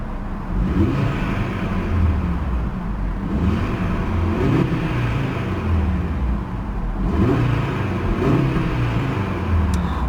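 A 2019 Audi RSQ3 Sportback engine revs repeatedly from idle, deep exhaust blats swelling and falling in several rising pulls near the car, loud and unaccompanied by speech.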